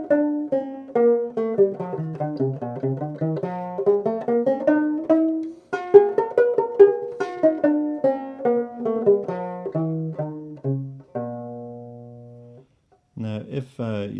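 A banjo picks a quick, steady run of plucked notes up and down, close and clear, ending on a sustained note and then a brief final strum.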